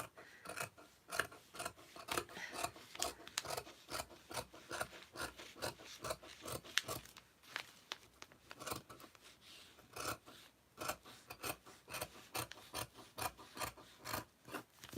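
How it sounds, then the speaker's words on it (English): Scissors cutting through handwoven handspun fabric, snipping straight along the bottom edge of a finished weaving; steady close crisp snips and rasping blade strokes repeat in quick rhythm without talk. "Right, scissors, and then get out to cutting."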